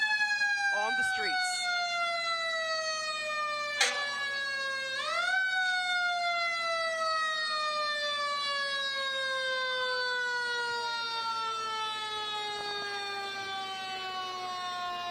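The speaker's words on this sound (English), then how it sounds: "when you hear these sirens of any kind, to move on out of the way" Savannah Fire Department sirens wail and sweep through a Martin Luther King Jr. Day parade street, loud and steady with falling tones and a couple of sharp yelps near the start, with crowd murmur beneath.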